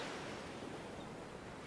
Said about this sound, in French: Nous retrouvons à présent l'atmosphère de la plage.